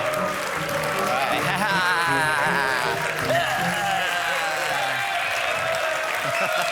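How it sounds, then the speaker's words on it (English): A tournament crowd at a Clash of Clans event cheers and chants in a continuous roar with rhythmic swells, heard at a distance beneath a commentator talking over it. "USA chants coming out of the crowd for some reason."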